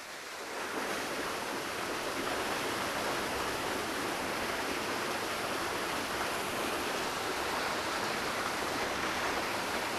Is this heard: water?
yes